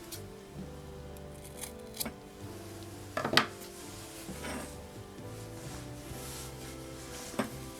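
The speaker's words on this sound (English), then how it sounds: "I want to cut off some of this yarn that I'm not using" Scissors snip through leftover crochet yarn while a cowl is being worked in granny spike stitch: a few short, quiet cuts and rustles close by, with one slightly sharper snip near the middle and no talking.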